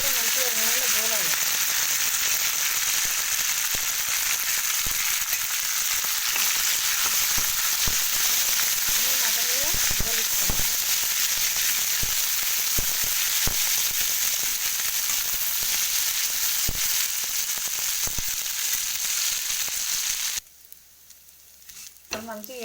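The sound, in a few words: drumstick leaves frying in oil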